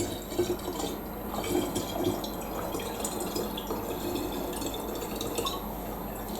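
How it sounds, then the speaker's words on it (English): Bols Parfait d'Amour liqueur poured into a glass, a soft continuous trickle and splash of liquid at close range. "And then we're gonna add the liqueur."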